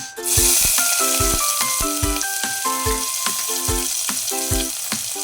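Garlic and onion sauté in a little oil for ginisang ampalaya, a loud close sizzle with regular rhythmic scrapes and taps of a utensil stirring the pan, with no voices.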